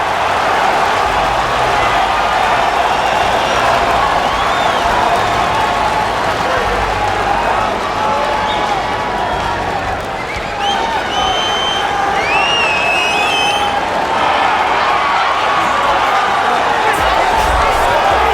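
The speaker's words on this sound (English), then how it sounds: "what a pop from the crowd as this guy makes the walk" In the UFC 3 video game, an arena crowd roars and cheers as a fighter walks out, a dense, sustained wash of noise with whistles and whoops rising partway through.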